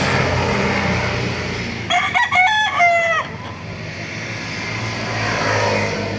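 A rooster at a chicken market in Laguna gives a single loud crow midway through, standing out above a steady background rumble.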